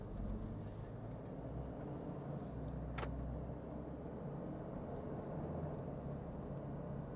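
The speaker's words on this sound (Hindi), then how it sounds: "क्या आवाज़ है यार इस इंजन की," A 2026 Toyota Fortuner Legender Hybrid engine idles steadily with a low, rumbling drone, constant and fairly close, with a brief faint click partway through.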